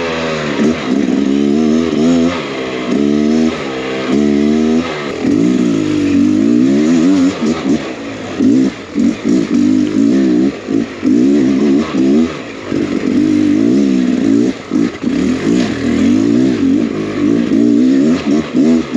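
A Beta X Trainer 300 enduro motorcycle on a Pacific Northwest hard enduro ride, its engine loud and close, revving up and dropping back again and again throughout.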